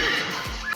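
A horse neighs in a short, shrill whinny that rises and falls over less than a second, loud and close with no talking.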